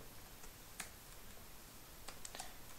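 Quiet keystrokes on a computer keyboard, a few scattered clicks spread across the moment, faint and close, with no voices.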